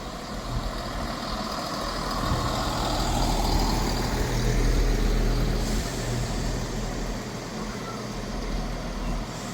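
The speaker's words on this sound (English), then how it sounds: "Departing out now is the delayed 12:45 Scotrail service from Aberdeen and Glasgow Queen Street to Aberdeen." A delayed ScotRail diesel service from Glasgow Queen Street to Aberdeen pulls out of Montrose station, a loud, steady engine rumble that swells in the middle and then eases, with rail and wind noise across the whole stretch.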